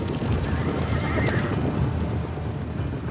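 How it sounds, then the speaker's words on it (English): A horse neighs loudly over a dense, steady clatter of hooves clip-clopping, close and continuous throughout. "And the conqueror's most terrifying weapon is the horse."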